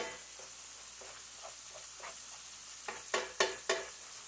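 Hamburger meat fries and browns in a pan, a soft steady sizzle broken by several scraping stirs and clinks, close and fairly quiet with no talk.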